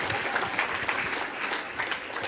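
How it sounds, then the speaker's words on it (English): Steady audience applause at an AAU Sullivan Award ceremony, a dense, continuous clatter of many hands filling the room at even loudness throughout. "A round of applause for that."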